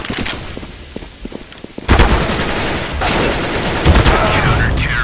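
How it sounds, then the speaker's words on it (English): A flashbang thrown during a Counter-Strike: Global Offensive match on Inferno bursts as a loud, sudden blast, followed by sustained close gunfire and a dense wash of in-game noise. "I am throwing a flashbang"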